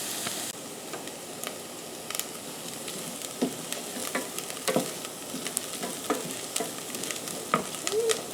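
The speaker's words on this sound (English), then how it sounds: "The onions are cooking down really good and starting to get soft and" Onions sauté in a pan for a basic marinara, softening with a constant close sizzle, while stirring adds scattered scrapes and clicks throughout.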